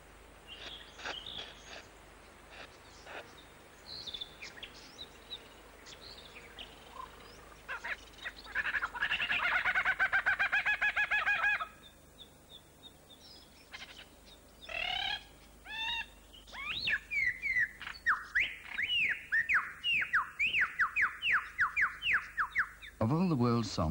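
A male lyrebird singing in an Australian rainforest, weaving mimicked calls of other birds into its own song: varied whistles, a buzzy rattling trill and rapid repeated chirps in loud bursts.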